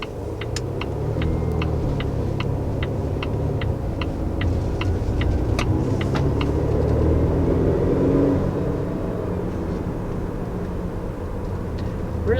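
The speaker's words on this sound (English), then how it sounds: "Really enjoying the fact that I can hear the supercharger." A 2020 Volvo XC60 R-Design with a supercharged engine on the move: a steady, loud engine and road rumble fills the cabin, with a regular faint ticking over the first few seconds and no talk.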